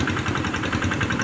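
A hand tractor fitted with a wooden board runs in a wet rice paddy, its small engine chugging steadily with a continuous, slightly knocking idle-like drone, close and uninterrupted with no voices.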